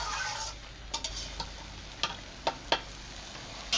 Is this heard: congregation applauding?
no